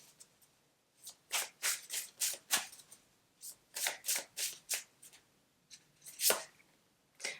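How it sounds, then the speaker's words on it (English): Oracle cards from a Divine Abundance Oracle deck riffle and slap in quick rustling bursts, several shuffles in rapid runs with brief pauses and a final sharp snap as a card is drawn, close and fairly quiet with no talk. "let's draw you a oracle card from the Divine Abundance Oracle to close this"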